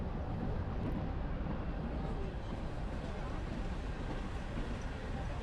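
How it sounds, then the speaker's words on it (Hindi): A fast-moving train gives a steady, dense rumble with broadband rolling noise, loud and continuous throughout without clear breaks. "जैसे मेरी ट्रेन तेजी से बढ़ी"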